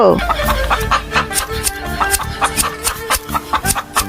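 Chickens cluck in quick, repeated bursts close by, opening with a sharp squawk, with faint voices in the background.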